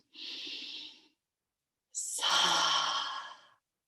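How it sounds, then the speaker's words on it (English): Two audible breaths: a short inhale followed after a pause by a longer, deeper exhale like a sigh, close and clear with no talk. "Take a deep conscious breath into this now moment."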